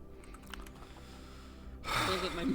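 Rapid clicking from a loud computer keyboard, heard up close for under two seconds before a sudden loud, breathy rush of noise takes over the end.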